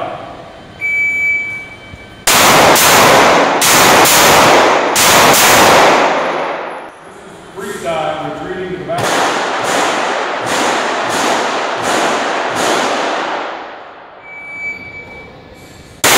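Pistol shots at an IDPA shooting match at Shooter's Retreat in Litchfield, Illinois, fired strong-hand from the holster: two rapid strings of loud, sharp cracks, about five then six, with a brief pause between them, close and outdoors with no talk.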